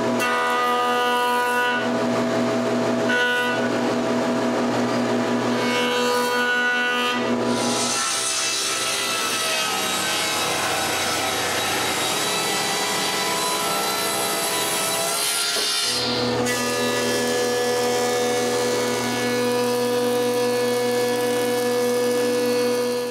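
A power saw cuts wooden pieces for a closed bookcase, giving a steady, loud mechanical whine with a tonal hum. Brief pauses and shifts in the noise mark separate cuts, and no voices are heard.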